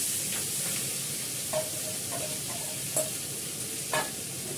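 Jackfruit pieces with potato and green chili frying in a pan, a steady low sizzle broken by a few brief stirring scrapes, close and moderately quiet with no voices.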